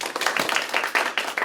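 An audience at a school SDGs supporters video presentation and graduation ceremony in Pyeongtaek claps in quick, even bursts; the applause is steady and fairly close, with no talking over it.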